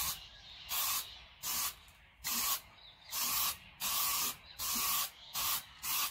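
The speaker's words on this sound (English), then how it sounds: "So I'm just going to shake this up heaps and then start spraying." Metal primer sprayed from an aerosol can onto a sewing machine: eight close, loud bursts of hiss, each lasting about half a second, separated by short pauses.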